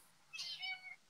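A cat gives a single soft meow, fairly faint and brief in an otherwise quiet room, with no talk over it.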